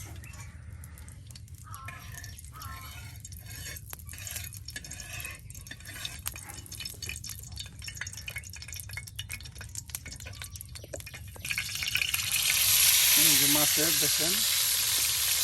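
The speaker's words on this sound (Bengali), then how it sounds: "মাছের ডুমাগুলো তেলে ভাজার জন্য দিয়ে দেওয়া হইতেছে।" Fish chunks dropped into hot oil on a tawa in a village kitchen: a soft sizzle with scattered clinks under a talking voice, then a louder, fuller frying hiss surges near the end.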